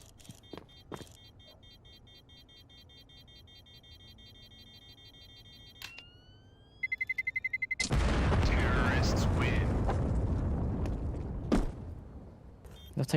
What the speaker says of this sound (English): They'll take further damage from those nades.